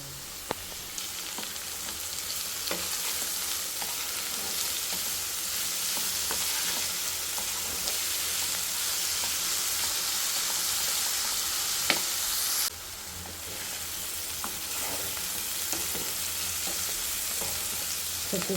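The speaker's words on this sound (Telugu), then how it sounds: "చూసారు కదా, ఇలా అయితే ఫ్రై అవ్వాలి, ఇంకా ఫ్రై అవ్వాలి." Beetroot fries in a pan with a steady, bright sizzle, stirred now and then with soft scraping taps and occasional clacks, heard up close and alone for a long stretch.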